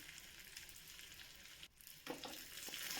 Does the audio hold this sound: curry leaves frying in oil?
yes